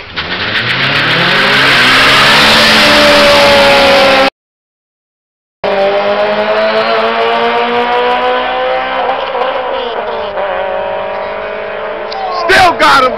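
Cars accelerate hard in an illegal street race in Providence, Rhode Island, engines revving loud and close with rising pitch, cutting out briefly before another climbing roar, crowd noise around.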